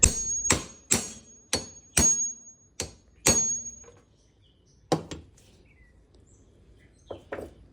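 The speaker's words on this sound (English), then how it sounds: "And then to get this one out, just gonna hit this." Sharp metallic hammer blows strike a steering shaft universal joint to knock it free, about eight loud clanging hits in an uneven rhythm with ringing overtones, close by and with no talk.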